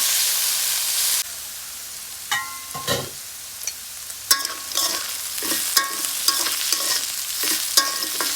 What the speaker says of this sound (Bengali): এটা আরও ভাজা ভাজা করে নেব